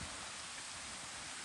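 Steady rain falling outdoors on a hilltop (Matanga hill), a dense, even hiss of drops continuing without pause throughout, fairly soft and with no voices.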